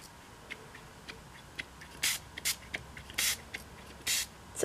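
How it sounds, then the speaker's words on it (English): A spray bottle hisses in four or five short bursts, close by, onto shelf liner, with light clicks of the trigger between sprays. "We'll spray that over here."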